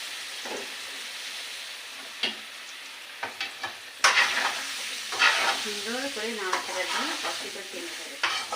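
Mango pieces with salt and turmeric frying in hot oil for a sweet-sour pickle, a steady sizzle with scraping stirs and occasional louder clatters, close and continuous with no talking.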